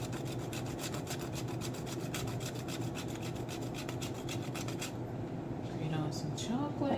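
Chocolate is grated over a low-carb chocolate chip mug cake, a quiet, rhythmic scraping rasp repeating about three times per second for five seconds before stopping, with faint kitchen sounds at the end.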